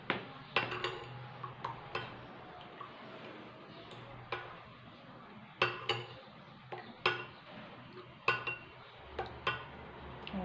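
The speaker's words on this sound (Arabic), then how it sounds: "نخلطو على نسير هكا مزيان حتى ينسجم لينا هذا البيض مع الحليب والزيت." Eggs being whisked together with milk and oil in a bowl, producing irregular clinking taps of utensil against the bowl over a quiet background, close and fairly crisp, with no talking.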